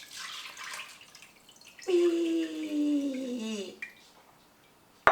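Buttermilk poured through butter muslin in a small strainer, a short wet splashing pour, faint and close, with a brief exclamation from a voice partway through.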